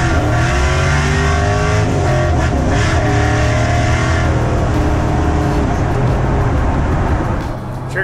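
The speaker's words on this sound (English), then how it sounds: "This is easily the fastest car I've ever driven." A blacked-out 1955 Chevy ProTouring build with a 1000 hp engine roars at speed, a loud, steady, unbroken engine drone with shifting harmonics that fades slightly near the end.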